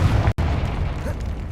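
A Confringo fire spell explosion in the Hogwarts Legacy video game, a heavy booming blast with a deep rumbling tail and a sudden brief cutout early on.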